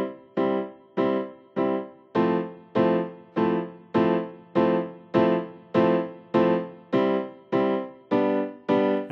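Piano plays the intro chords of a song as a steady stream of evenly repeated block chords, about one and a half per second, close and clear with no talking.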